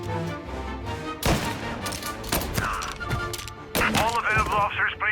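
Gunfire crackles in the video game Mafia Definitive Edition, sharp bursts and shots between shouted voices and game dialogue, loud and close.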